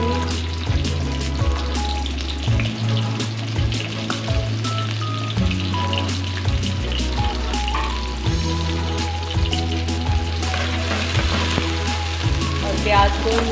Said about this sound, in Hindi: प्याज को लाइट ब्राउन करेंगे